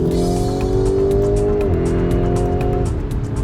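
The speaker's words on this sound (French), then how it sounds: "les coups de boutoir d'un V8 à double suralimentation. Rupteur À 7000 tours tout de même." A twin-turbocharged V8 Lamborghini revs hard toward a 7,000 rpm limiter. The engine note is loud and close and climbs through steady gear pulls, with a faint whine and flutter and no talk over it.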